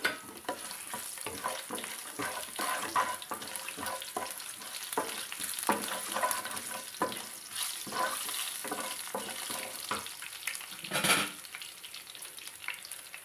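Tempering spices and garlic cloves fry loudly in hot oil in a pan for an old-style chutney, a dense continuous sizzle broken by crackles, pops and stirring scrapes, with no talking.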